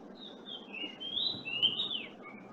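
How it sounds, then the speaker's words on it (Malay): Thin, high bird chirps and whistled calls come faintly over a steady hiss from an open microphone during an online class, a few slurred notes rising and falling in a loose sequence. "Kami dengar bunyi burung aja"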